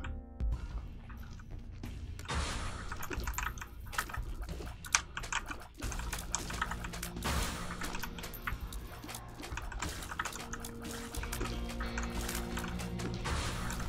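Computer keyboard keys are pressed during a game of Binding of Isaac: Repentance, a faint, steady patter of clicks and taps under continuous game sound.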